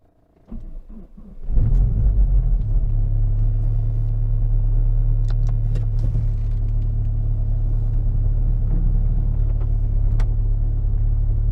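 A Saab car with added turbo boost starts up and settles into a steady, loud engine rumble heard from close by, holding an even drone throughout.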